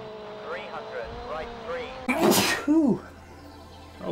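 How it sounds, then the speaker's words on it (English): A single loud human sneeze bursts out over the steady hum of a rally car engine, preceded by a man's short sharp intake of breath. "I'm almost gonna sneeze."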